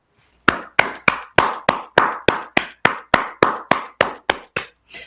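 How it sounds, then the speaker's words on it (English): Hands clapping alone in a steady, even run of about fifteen sharp, close claps. "Literally, all I can give it claps."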